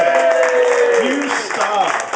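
Crowd applause at a presentation gathering, dense and continuous, mixed with cheering voices and speech over the clapping.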